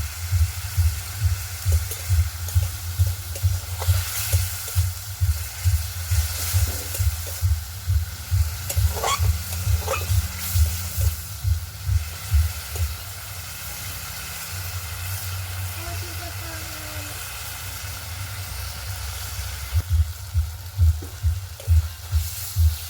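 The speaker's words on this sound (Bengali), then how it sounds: "মশলাটা ভালো করে কষিয়ে নেব।" Spice masala stir-fried in a pan for a mutton fat and tripe curry, with a steady rhythmic sizzle and repeated scraping strokes of a spoon that ease off midway and then pick back up, close and fairly loud.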